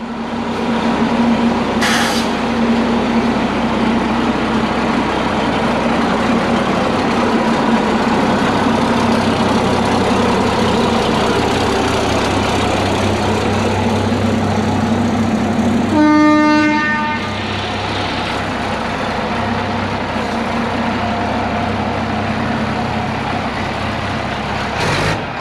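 Crew cab 2.5 ton overland camper truck backing out for a test drive, a loud steady engine drone throughout with a brief tonal horn-like blast midway.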